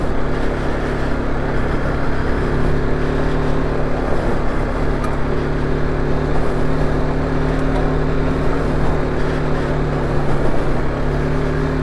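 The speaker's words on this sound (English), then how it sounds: "You just feel your bike digging in. It's digging and digging and digging." Dual-sport motorcycle ploughing through a deep sandy wash on Milpitas Wash Road in Southern California, its engine a continuous, loud, close droning hum at a steady labored pitch, with no speech over it.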